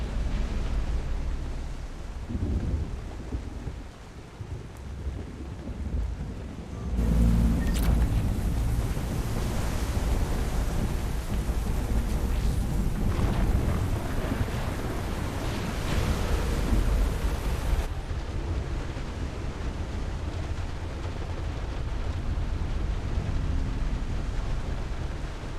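Explosions in the video game Mass Effect 3, a loud continuous roar of blasts and rumbling debris lasting about ten seconds in the middle, heavy and close, set against a steady windy ambient background with no speech.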